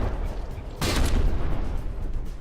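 A naval gun shell striking a frigate in the From The Depths game, a single sharp explosive boom that rings out briefly over a low rumbling background.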